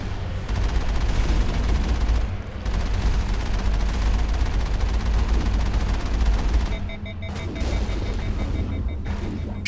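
Enemy gunfire in Mass Effect, a dense continuous barrage of rapid shots and impacts, loud and close, easing off near the end into scattered bursts.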